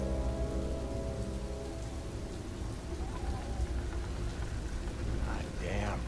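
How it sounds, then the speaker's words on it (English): Heavy rain in the video game Beyond: Two Souls, a steady loud downpour with a low rumble of thunder underneath, continuous throughout with faint talk near the end. "God damn rain."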